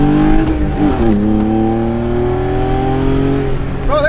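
A tuned BMW E36 engine revs hard while accelerating. The pitch climbs in a loud, close whine with a brief shift-like dip near the start and another rise at the end, and no speech is heard.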